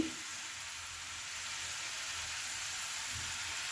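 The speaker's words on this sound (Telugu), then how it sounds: "ఇవి మనం బాగా వేపుకోవాలి" Pieces of sweet dough deep-fry in hot oil, producing a continuous, even bubbling hiss that holds steady throughout at moderate volume.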